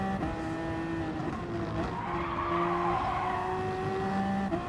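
In the racing game Gran Turismo Sport, a Gr.1 race car at Laguna Seca spins into the gravel, tyres squealing and skidding over a continuous engine whine, with no voices.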